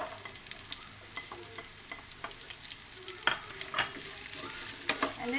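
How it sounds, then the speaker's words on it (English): Chopped onion sautés in a pan, making a quiet continuous sizzle. Occasional spatula scrapes and taps stand out, a sharper knock near the middle, with no voices. "And we just saute this until the onion gets translucent or like golden brown"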